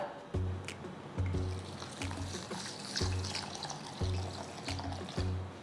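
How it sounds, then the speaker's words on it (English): Urad dal and toor dal being rinsed in water, with repeated splashes and trickling pours recurring roughly every second or so, close and fairly soft, with no voices. "wash the dal and soak for about 1 hour."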